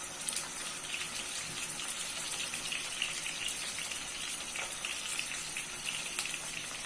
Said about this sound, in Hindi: हमने इनको शैलो फ्राई करना है।